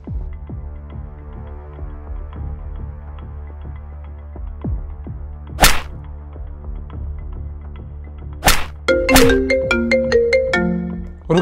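Phone ringtone during an outgoing call, a repeating electronic melody with rhythmic pulses that grows louder and denser toward the end, heard over a steady low hum.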